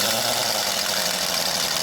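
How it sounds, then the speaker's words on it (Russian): A powerful impact wrench runs in the background of a garage, a steady, continuous hissing whir heard at a distance and fairly faint, with no talk over it. "на заднем плане мега гайковерт"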